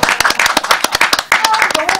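Several people clap together in a short burst of close, sharp, uneven handclaps during a Korean television contest broadcast, with voices talking and exclaiming over the applause.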